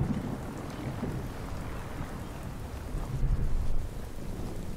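Steady rain and a low rumble of thunder in the Fallout 4 game world, a dense hiss with a deeper roll swelling briefly before easing back to the constant downpour.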